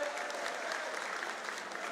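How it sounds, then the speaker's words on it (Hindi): Crowd at a Kisan Nyay Yatra political rally in Ujjain applauding to welcome Digvijay Singh, a dense, steady patter of many hands clapping at a distance, fairly faint and continuous. "उनके लिए जरा जोरदार तालियों से स्वागत करें"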